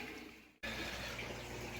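Aquarium siphon, a regular sink-driven type, drawing murky water up through pool filter sand substrate: a steady close watery rush that starts abruptly after a brief drop in sound and runs continuously to the end.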